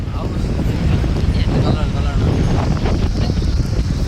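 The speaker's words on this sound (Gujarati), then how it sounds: "ના પવન જો તમે ખાલી ગાંડો પવન બાકી પાછો ફેંકાઈ જાય એવો પવન છે" A strong, gusty wind blasts across the beach at Daman, by tea stalls and coconut palms as the sea turns rough, roaring loudly and without a break straight into the microphone with a faint wash of surf beneath.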